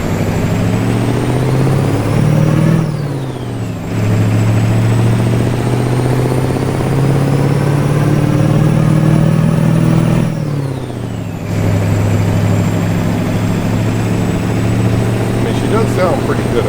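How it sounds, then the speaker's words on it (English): Mack E9 engine from a Steam Workshop mod in the American Truck Simulator game, a deep loud rumbling drone that rises through gears with two brief drops between shifts, continuous over sixteen seconds while a voice talks faintly beneath it. "we can get a little bit more sound from that engine that we have"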